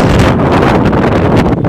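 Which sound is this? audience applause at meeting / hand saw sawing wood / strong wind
strong wind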